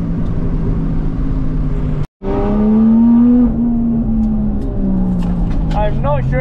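A Toyota JZX100 Mark II engine revs hard on the Nishi course of Ebisu Circuit, with a loud in-car drone, a brief cut in sound, then a sustained high rev and pitch swoops as it backs into a hairpin.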